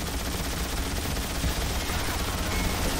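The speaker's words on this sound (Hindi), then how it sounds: "भाई वॉल्वरिन मशीन गन चला रहा" Sustained rapid machine gun fire from Wolverine in the video game Marvel's Wolverine, a dense continuous burst of gunfire with steady loudness and no clear pauses.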